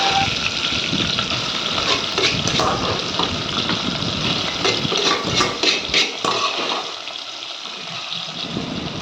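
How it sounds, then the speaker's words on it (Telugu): Spices for tempering sizzle and crackle in hot oil for an amaranth leaf curry, a loud, steady frying hiss that carries on for several seconds before easing slightly. "తర్వాత తాలింపు సిద్ధం చేసుకోవాలి"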